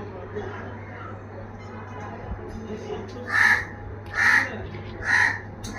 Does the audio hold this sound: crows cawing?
yes